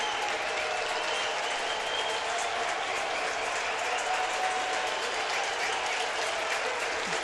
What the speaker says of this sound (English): Nice hand for Matt Harvey as he comes to the plate.